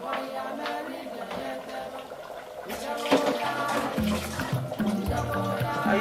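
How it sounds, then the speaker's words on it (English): Cold water poured into a pot of Tuozaafi sauce on the stove, a running splash that grows louder and fuller partway through, with background voices. "Add a small cold water and cook this in a gentle heat."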